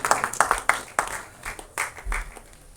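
A small audience at an album song screening festival claps in brief scattered bursts, fairly faint and uneven, tapering off as the clapping thins out.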